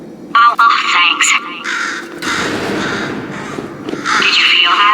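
A bird in the Portal 2 video game squawks with harsh, crow-like caws in repeated bursts, while a voice talks over and between the calls.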